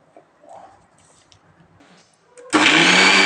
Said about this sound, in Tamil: இப்போ இந்த பலாப்பழத்தை நம்ம அரைக்கணும்.